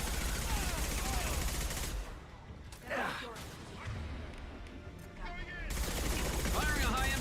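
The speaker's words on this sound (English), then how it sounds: "Firing a high impact shot." A high-impact gunshot fired in Mass Effect 2 during combat against a mech, heard as bursts of loud gunfire with a sharp whooshing projectile in the middle, surrounded by dense battle noise.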